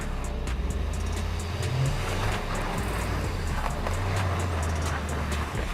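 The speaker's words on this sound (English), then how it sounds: "The car takes the starting position and drives into the pit with the front left wheel." A Skoda Kodiaq SUV creeps forward into a test pit with its front left wheel, engine humming low and steady under crunching, rumbling tire and ground noise.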